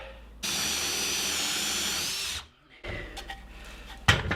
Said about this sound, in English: So I'm actually going to drill a 20 millimeter hole